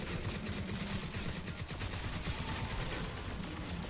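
Dense automatic gunfire in the Crysis 3 video game rattles continuously as a steady barrage with no pauses. It comes across as a loud, busy mix with nobody speaking.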